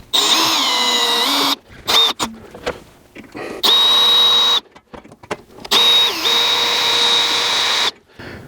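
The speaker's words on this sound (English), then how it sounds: "So I'm going to pre-drill those holes, and then once those screws are in, I'll be able to start securing the piece down along this wall stud." A handheld power drill pre-drills screw holes while a pocket door frame is secured to a wall stud in an existing closet doorway, running in several steady whining bursts separated by short pauses, loud and close with no talking.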